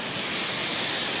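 High waves crash against the PPI Beba pier, a loud, unbroken roar of surf mixed with wind buffeting, with no voices.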